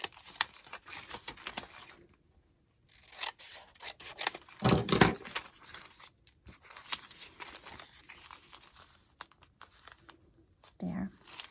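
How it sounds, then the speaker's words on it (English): Paper edges on a fairy journal page are trimmed with scissors, giving crisp snipping and rustling cuts in irregular bursts, close and fairly quiet, with short silent gaps and talking in between. "I just need to trim off the edges here"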